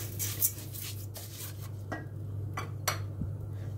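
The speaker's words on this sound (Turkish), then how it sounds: "3 su bardağı pirincimi ekliyorum ve karıştırmaya başlıyorum" Three cups of rice being stirred and toasted in a pot for pilaf, scraping spoon strokes and light metallic clinks against the pot over a low steady hum, no speech.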